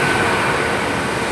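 A train passes through Swindon station, a loud, steady rumbling roar of wheels and engine filling the moment close by with no pauses.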